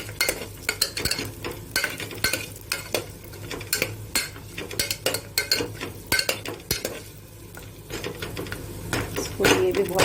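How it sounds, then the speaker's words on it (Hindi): Oil sizzles steadily in a pressure cooker while Amritsari lentil dumplings are fried and a utensil stirs and scrapes the metal pot in uneven bursts, with a faint voice in the background. "अब सबसे पहले हल्की सी भून लूंगी मैं बड़ी।"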